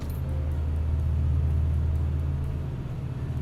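A propeller aircraft engine run-up in Microsoft Flight Simulator produces a continuous low droning hum that holds steady and fairly loud throughout.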